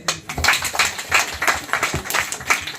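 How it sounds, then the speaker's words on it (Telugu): Children and guests clap together at a village Christmas celebration, a dense, lively patter of many hands with quick irregular bursts, fairly close and loud, with no talk over it. "అందరు చప్పట్లు కొట్టండి."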